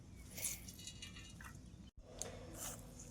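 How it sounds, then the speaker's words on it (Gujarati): Homemade paneer is squeezed in a cloth to drain the water, making faint, close squelching and wet dripping sounds with a short pause partway through. "આવી રીતે પ્રેસ કરીને બધું પાણી આવી રીતે નીતરાવી લેવાનું"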